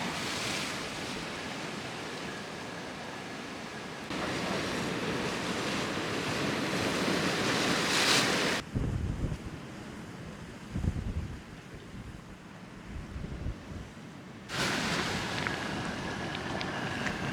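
Rough sea at Little Bay, Jamaica, with waves crashing into white water and spray, a steady loud roar of surf that swells and subsides, with wind buffeting the microphone at times.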